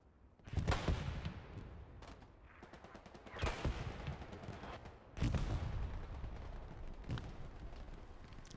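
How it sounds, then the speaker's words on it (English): Gunfire in the game Hell Let Loose during a clan scrimmage, with repeated sharp shots and bursts over continuous battle noise, some loud and close, others more distant. "He's firing on one of their MGs, got him."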